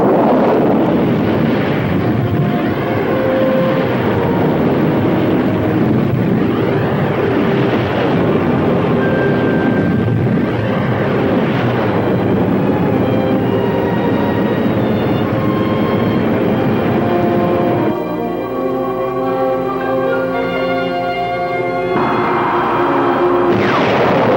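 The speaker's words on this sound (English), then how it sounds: "Engines at maximum speed." Spacecraft engines at maximum speed in a 1960 science-fiction film, a loud, continuous roaring rumble with shifting whooshing tones, joined near the end by a pulsing, stepped electronic hum before the roar returns.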